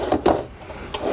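Full-extension drawers sliding open in a 2019 Northwood Arctic Fox 28F travel trailer, two short woody rolling slides close by with a soft thump between them, no talk.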